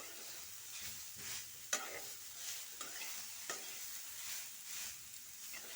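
Chopped vegetables including beet and carrot being mixed in a pan for veg cutlets, a soft, continuous frying hiss with periodic scraping strokes and one sharper knock.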